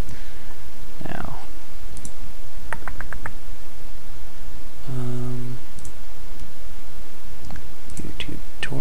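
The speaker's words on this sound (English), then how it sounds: "you can just click this button to open the content browser" Sharp mouse clicks come singly and in quick bursts of three or four while someone works in 3D game-level software, crisp and close against a low steady background hiss, with a few soft rustling sounds between them.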